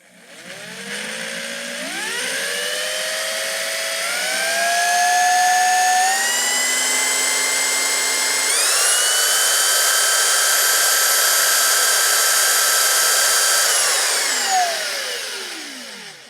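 An unknown electric motor on a test bench spins up slowly, its whine climbing in pitch in steps to a loud, steady high tone, then winding down smoothly as it coasts to a stop.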